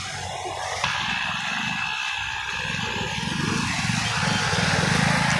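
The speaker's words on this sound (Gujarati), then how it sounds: "અને પેલી ગાડી આવી." A motor vehicle arrives near a village river, its steady engine drone running unbroken throughout, fairly close and slowly building toward the end, with no talk over it.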